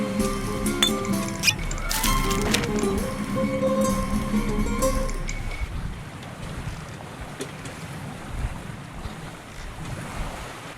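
Sailing ship at sea in the video game Nancy Drew: Ransom of the Seven Ships: tonal game sounds open over a bed of rushing wind and waves, then fade, leaving steady, fairly loud wind and surf noise alone.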